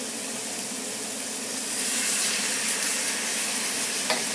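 Liquid poured into a pot with a braising chuck pot roast gives a steady, hissing pour that swells partway through and carries a soft sizzle.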